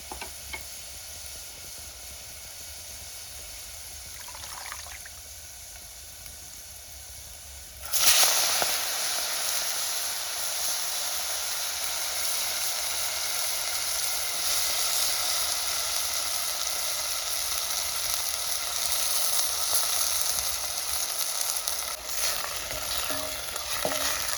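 Fenugreek leaves dropped into hot oil with browned garlic cloves and asafoetida burst into a loud, sudden sizzle that then holds as a steady, close frying hiss with some stirring.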